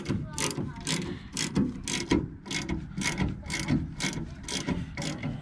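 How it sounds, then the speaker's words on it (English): A ratchet wrench tightens a spring compressor on a 2018 Ford F150 suspension, clicking in a steady repeated rhythm of quick strokes, close and clear, with no talk. "And then start tightening it down."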